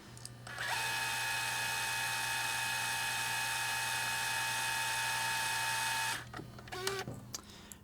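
A power tool tightening nylock nuts on a sit-on creeper frame, one steady high whirring run lasting about five seconds, close and loud, then stopping, followed by brief clatter.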